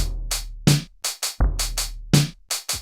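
A Mario Paint drum track for a song remake plays a punchy, loud electronic beat: booming low kicks interleaved with crisp snare-like hits in a steady groove, nothing else audible.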